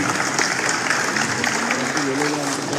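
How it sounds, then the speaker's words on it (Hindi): Dense, continuous applause from an audience at an outdoor Fit India Run event in Lucknow, welcoming a government minister, loud and sustained throughout, with faint voices in the crowd. "मैं अनुरोध करूंगा कि बुके से केंद्रीय मंत्री जी का स्वागत करने का कष्ट करें। जोरदार तालियां।"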